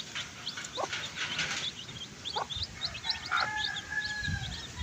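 Chickens cluck and chirp in short bursts around an outdoor yard, with a rooster-like call and a steady rising tone in the background.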